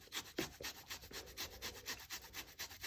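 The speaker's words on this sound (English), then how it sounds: "I'm going to grate some for zest too, because zest just imparts such a good flavor" Citrus zest being grated, with quick, close scraping strokes in a fast, even rhythm that stay faint throughout.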